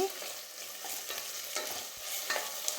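Onions and ginger-garlic paste fry in a pan for a Rayalaseema-style country chicken curry, with a close, steady sizzle broken by repeated stirring scrapes.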